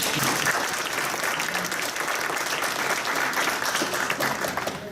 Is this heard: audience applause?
yes